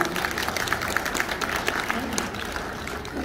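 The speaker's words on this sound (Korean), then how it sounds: "네, 여러분 박수 부탁드립니다." Audience at a lawyer's book launch event claps steadily, a dense wash of applause heard from within the room with a low rumble beneath and a few voices mingled in.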